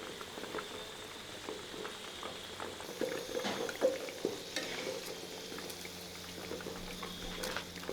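Pork ribs deep-frying in hot oil for garlic ribs, giving a steady close crackling sizzle with scattered pops and a few utensil clinks, no talking.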